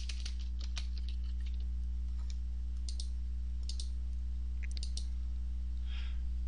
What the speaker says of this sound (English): we can type in the date